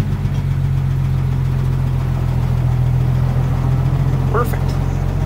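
Engine of a 1959 Willys Jeep pulling away in first gear, with a steady close, loud low rumble that holds constant throughout and a brief higher squeak near the end.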